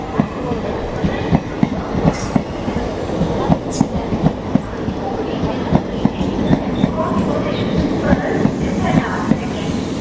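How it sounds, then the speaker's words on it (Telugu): The late-running Tirupati–Puri express, newly fitted with LHB coaches, pulls into Vijayawada station: a continuous close rumble punctuated by regular clickety-clack wheel beats and occasional brief metallic squeals. "ఇప్పుడే పూరి నుంచి ట్రైన్ అయితే వస్తుంది విజయవాడ సంబంధించిలోకి"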